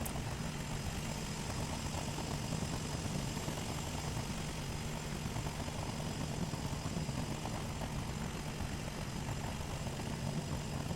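A helicopter flying a manual VOR DME approach to Torp in Microsoft Flight Simulator 2020, its steady engine and rotor drone close and constant throughout with no talk.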